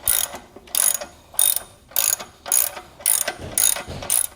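Bolt being threaded through a 1-1/4 inch hitch shank for a Yakima HoldUp bike rack, heard as eight evenly spaced bursts of ratcheting, close and fairly loud, with no voices.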